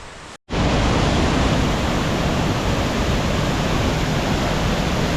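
Two-tier waterfall in autumn forest on Bangtaesan mountain, a loud continuous broadband roar of falling water that fills the whole clip after a brief dropout near the start, steady and close with no voices.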